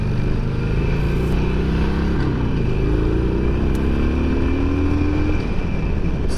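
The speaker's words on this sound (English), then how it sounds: "I'm on the Harley today. It's like 3 times more noise." A Harley-Davidson Sportster is ridden at speed, giving a loud, continuous engine drone with steady low rumble and a pitch that rises slightly as it accelerates, heard close from the rider's position.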